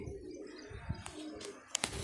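A pigeon coos softly a few times amid quiet outdoor background noise, with a couple of brief chirps.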